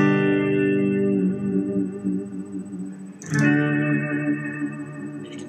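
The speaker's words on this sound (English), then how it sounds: "So the first tool is going to be the whammy bar." A sustained electric guitar chord wavers and bends in pitch, dipping and rising as the whammy bar is worked, with a sharp restrike midway.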